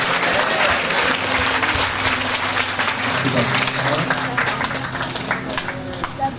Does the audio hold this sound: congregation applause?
yes